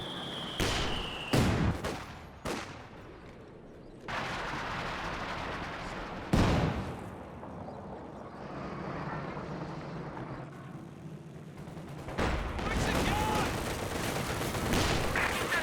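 Machine gun fire and other gunshots in Company of Heroes 2, sharp close bursts and cracks early on, a distant rumbling lull of battle in the middle, then heavier sustained gunfire toward the end.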